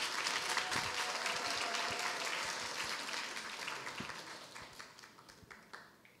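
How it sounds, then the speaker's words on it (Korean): A concert audience claps in a broad, sustained round of applause that gradually fades out, with a few sharper individual claps standing out near the end. "한번 박수 부탁드리겠습니다."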